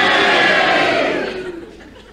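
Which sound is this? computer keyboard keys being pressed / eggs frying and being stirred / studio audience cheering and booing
studio audience cheering and booing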